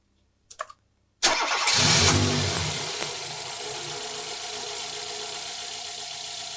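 A car engine cranks briefly after a couple of soft clicks, then catches with a loud burst and settles into a steady idle with no talking.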